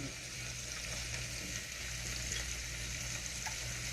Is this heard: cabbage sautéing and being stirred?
yes